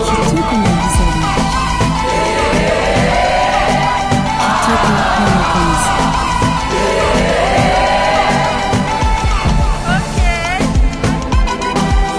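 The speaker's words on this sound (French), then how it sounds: "Applaudissez fortement pour la candidate numéro 16" A Miss Universe DRC 2025 pageant crowd roaring, whooping and cheering for a candidate, loud and sustained, with music and an amplified voice sweeping through over the din.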